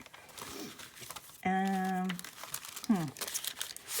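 Paper being chosen and handled for a junk journal crinkles and rustles close by in scattered bursts, while a person talks and briefly hums or sings over it.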